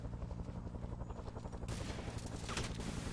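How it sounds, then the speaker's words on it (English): Gunfire in the Vietnam War game Vandal Commander, Viet Cong campaign: quiet, rapid, rattling bursts of automatic fire blend with a steady, droning engine-like hum, then grow harsher and brighter in the second half. "He's shooting at us."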